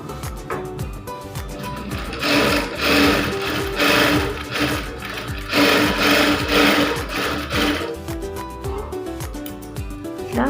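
A sewing machine stitches darts on the front panel of a blouse, loud and close, its motor surging in repeated bursts with a rhythmic needle clatter.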